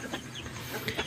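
A male turkey calling nearby, a few short clucking, gobble-like bursts repeating over steady farmyard background noise.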